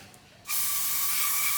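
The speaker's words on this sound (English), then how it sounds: "spray it with hairspray, try not to make a mess" Hairspray blasts from an aerosol can onto the grip of a crash-damaged 2021 Ducati Panigale V2, a sudden steady hiss that starts after a brief quiet moment and continues loud and close to the end.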